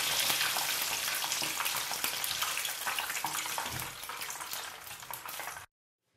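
Steady, dense crackling and sizzling of battered food frying in hot oil, loud and continuous for several seconds before cutting off abruptly.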